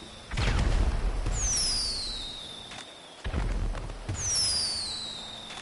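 Fireworks in the video game GTA 5 during a Fourth of July session: two launches whistle upward, each followed by loud booming bursts and crackle, separated by a short lull, no talking.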